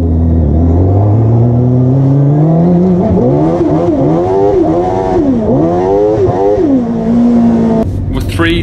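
Rallycross buggy engine at Lydden Hill revving loudly and close, its pitch climbing and dipping through gear changes before settling, with a brief break near the end.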